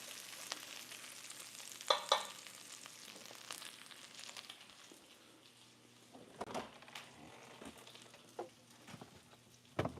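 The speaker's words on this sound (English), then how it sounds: "you can kind of hear the sizzle change" Steady frying sizzle from a pan, a soft continuous crackle with a few louder clatters and stirring noises, close by and without talk.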